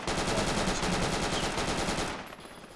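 Rapid automatic gunfire from the military shooter Project Reality rattles in a fast, steady burst, loud and close, then trails off near the end.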